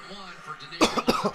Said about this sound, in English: I'm going to keep apologizing for coughing.